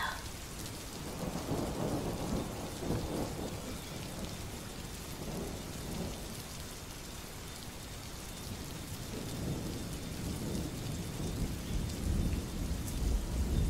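Heavy rain pours steadily through a thunderstorm, with deep thunder rumbling underneath for the whole stretch; dense, continuous and close, with no voices.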